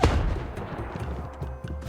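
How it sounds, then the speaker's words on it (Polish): A barrel blows up in the platform game Kao the Kangaroo, one heavy boom right at the start that fades into a rumbling tail under low game background sound, with no talking. "Oj, mamy beczkę. Dobra, możesz sobie wybuchać."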